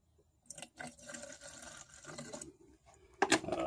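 Paint thinner trickles and glugs as it is poured into a can of varnish, a faint close liquid splash lasting a few seconds with a brief louder clink near the end.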